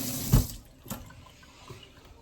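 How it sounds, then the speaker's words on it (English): Hands get rinsed under a running kitchen tap: a steady stream of water splashing into the sink, with a thump near the start and a few small knocks against the basin. "let me rinse off my hand because gotta rinse that off"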